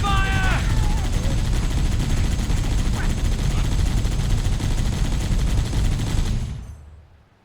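Sustained automatic gunfire in Halo: Combat Evolved Anniversary rattles loudly and continuously for about six seconds, with a short alien-sounding chirp early on, then fades out quickly.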